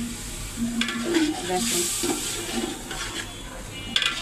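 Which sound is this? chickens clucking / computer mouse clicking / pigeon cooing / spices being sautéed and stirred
spices being sautéed and stirred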